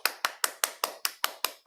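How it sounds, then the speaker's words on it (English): Hand clapping for a Toastmasters speaker: nine crisp, evenly spaced claps in a steady rhythm, close and distinct, with no talking. "Let's give a round of applause to Toastmaster Tat Baki."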